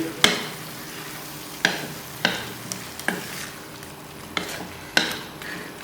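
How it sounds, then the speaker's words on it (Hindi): Finely chopped onion and minced keema fry together in a pan, a soft continuous sizzle punctuated every second or so by loud metal spoon strikes and scrapes against the pan, nearby and without voices. "1 प्याज है, बारीक कटा हुआ, ये डाल देंगे। अच्छी तरह भूनेंगे।"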